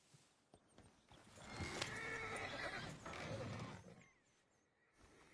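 Horses in Red Dead Redemption 2 give a loud, drawn-out whinny that swells and fades over several seconds, with a few clip-clop hoof knocks before it and no talking.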